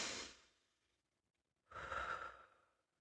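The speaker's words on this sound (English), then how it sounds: "just take a few deep breaths in" Two deep, close breaths, one fading out at the start and a second long inhale after a short pause, soft and unhurried with no talking.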